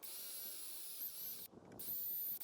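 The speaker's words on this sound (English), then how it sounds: "So we're gonna pre-drill those just a little bit bigger." An electric drill pre-drills latch screw holes in a metal Andersen 2000 Series storm door, a steady high whine running through the clip with a brief pause in the middle before resuming.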